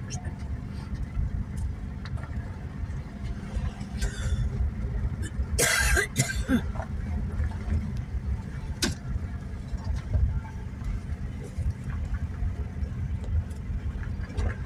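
A single short cough bursts out over steady low engine rumble, with people talking nearby.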